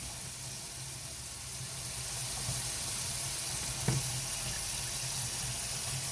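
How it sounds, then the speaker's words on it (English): Hands being washed under a running kitchen tap before cooking lemon chicken, a steady hiss of flowing water with a brief splash partway through, continuous and fairly close. "Before we start cooking, we always have to wash our hands."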